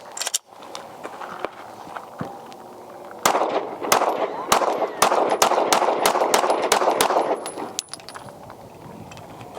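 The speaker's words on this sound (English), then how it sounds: "So let's have Landon shoot and see what he thinks." Shots from a DUSK 19 R Glock-clone pistol fired at a range: a few scattered reports, then a rapid string of about a dozen loud sharp shots in quick succession, with no talk.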